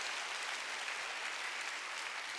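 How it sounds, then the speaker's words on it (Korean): A church congregation at a Wednesday worship service applauds, a faint, even wash of many hands clapping heard from a distance, steady throughout with no speech over it. "깨달은 사람은 박수하고."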